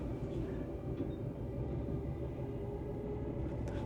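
Steady rumble of a passenger train running from Oslo to Askim through Norwegian countryside, a continuous low rolling drone with faint clicks and rattles throughout, no voices.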